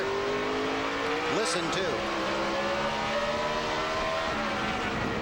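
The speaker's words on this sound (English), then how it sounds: "He jumped on the brake so hard, you can hear that boom, boom, boom, boom." NASCAR Cup stock car at the 2006 Subway 500 hopping its rear wheels under hard braking, a quick series of thumping bursts over a steady engine drone, with a commentator talking.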